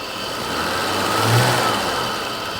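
BMW E34 535i with an M30 stroker engine revving up briefly and dropping back, a steady mid-pitched engine drone that swells to a peak midway and then settles, close and fairly loud with no talk.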